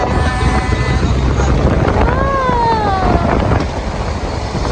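Wind rushing through an open car window on a road trip, a steady loud broadband roar that fills the whole clip, with a faint whistling tone rising and falling midway.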